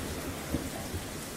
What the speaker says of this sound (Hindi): बिजली कड़क रहे।